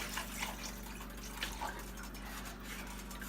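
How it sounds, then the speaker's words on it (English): Water pours into a pot of African soup being cooked with rice, a continuous liquid splash and trickle over a steady low kitchen hum, moderately close and without talk. "I'm gonna add some water to it"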